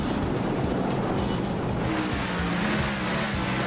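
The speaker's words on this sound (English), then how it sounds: "And listen to these cars zoom on by." Race cars roar past on the Long Beach street circuit near the pit lane in a loud, continuous engine wash with surging pitch, close and dense throughout.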